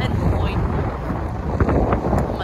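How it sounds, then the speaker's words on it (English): Strong wind gusting across the microphone on a coastal path by the sea, a continuous loud rumbling buffet with a few brief rustles and no talk. "It's breezy."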